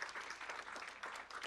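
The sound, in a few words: audience applause for Dr. Ruth Ryder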